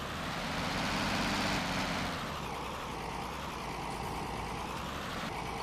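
A tractor engine in Farming Simulator 19 drones at a steady, loud, rough pitch, slightly easing after a couple of seconds, with no voices over it.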